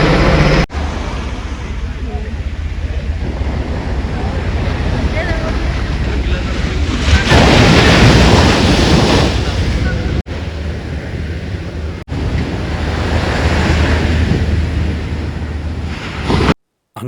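Ocean waves break on the shore at Kannanthura beach under a dark, overcast sky. The surf roars loud and continuous, with gusting wind buffeting the microphone and a brief louder swell midway.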